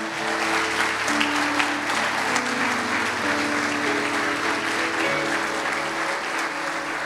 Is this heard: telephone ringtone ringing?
no